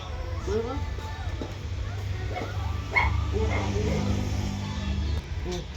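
Dog barks and yips mixed in with ongoing talk and steady low background noise, several short bursts across a few seconds, fairly close.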